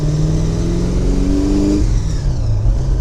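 An MG TF sports car accelerates along a short straight on a country road, its engine note climbing steadily and staying loud and close for the whole stretch, with no talking.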